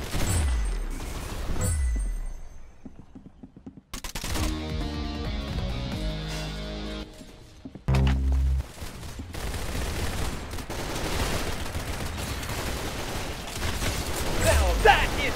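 Gunshots in Roblox Arsenal, sharp loud cracks and bursts scattered through busy game action, broken by a short stretch of musical tones in the middle.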